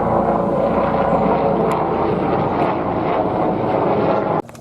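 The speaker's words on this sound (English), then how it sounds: "Helicopter approaching, has the sound of a buzz." A gray and blue LAPD helicopter drones overhead with a steady, buzzing rotor hum that stays loud and constant, mixed with some wind rush, before cutting off abruptly at the end.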